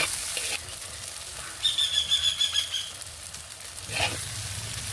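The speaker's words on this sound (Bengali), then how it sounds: "সব কিছু একটু ভালোভাবে ভেজে নিয়েছি" Green chillies and vegetables frying in a pan give off a steady, fairly quiet sizzle, with a brief stretch of stirring and scraping in the middle.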